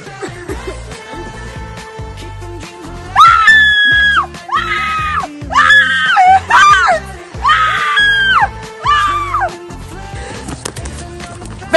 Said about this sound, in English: She's supposed to scream.